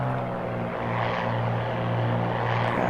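A Bonanza propeller airplane's engine drones steadily in the Microsoft Flight Simulator game, with a constant low hum and no talk over it.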